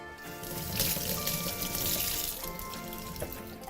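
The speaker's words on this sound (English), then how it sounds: "just pull off your celery and give it a wash" Celery is rinsed under running tap water, a steady splashing and trickling stream that stays fairly quiet throughout, with no voices.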